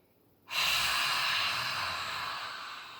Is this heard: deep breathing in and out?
yes